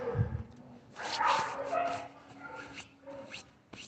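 Dogs bark and yip in a residential neighborhood, several short bursts at a moderate distance over background noise, with a voice faintly in between.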